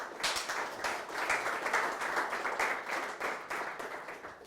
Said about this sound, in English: Let's give Tim a final nice round of applause